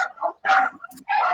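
Dogs bark in short, sharp bursts at a senior dog rescue, three close barks with brief gaps between them.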